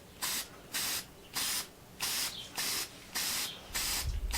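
A spray paint can sprays in a steady rhythm of about eight short, loud hissing bursts with brief gaps between them, close up, ending with a knock.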